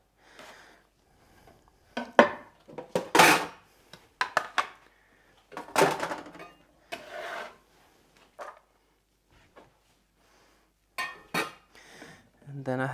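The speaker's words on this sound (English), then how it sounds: "The other 2, 2 halves, so 1 jalapeno I'll just slice up." A knife slices through a jalapeno on a cutting board during kitchen prep, giving scattered short cuts and board knocks in uneven bursts, fairly close and moderately loud, with pauses between strokes.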